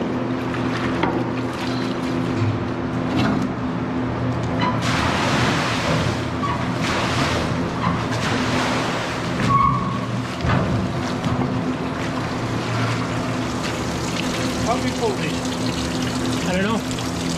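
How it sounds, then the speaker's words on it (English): A cattle water trough being scrubbed, its walls brushed clean of built-up deposits, with bursts of harsh scraping and sloshing over a steady, loud mechanical hum that runs throughout. "he's just scrubbing all the walls of the water bowl, knocking everything off that's built up on the walls"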